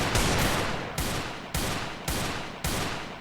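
Desert Eagle pistol shots in a shooter video game, five or six loud, booming reports fired at a steady pace about half a second apart, each decaying before the next, with no talking.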